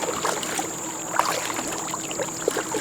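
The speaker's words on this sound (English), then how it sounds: "I'm just paddling back." A kayak is paddled on the Hiwassee River, with soft splashes and water swishing near the hull amid a steady outdoor hiss and a constant high-pitched tone.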